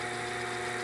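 Grizzly G0781 mill running after a belt drive conversion, a steady, fairly quiet mechanical hum with a faint tonal whine, no voices.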